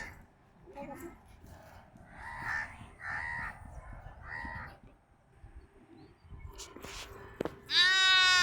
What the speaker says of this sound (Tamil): ஆட்டுக்குட்டி கத்துது பாருங்க